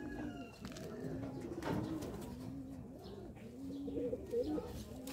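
A bird coos softly in a steady, repeated low rhythm, with faint chirps and background noise around it.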